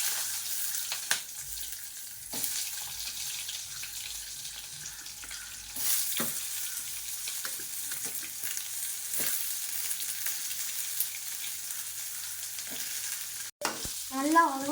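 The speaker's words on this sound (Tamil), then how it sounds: "அடுத்து நான் பல்லாரி போட போகிறேன்." Onions go into hot oil in a pan already holding cinnamon and cloves, giving a steady loud sizzle with intermittent stirring scrapes, and a brief different sound near the end.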